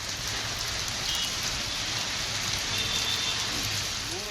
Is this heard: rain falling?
yes